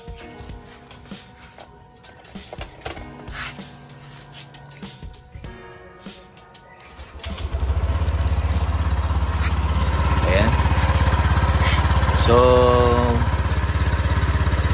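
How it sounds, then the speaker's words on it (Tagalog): A Honda Click V3 scooter engine starts after a brief spoken word and some clicking, then settles into a steady, close, loud idle that runs to the end. "i-on natin ang makina"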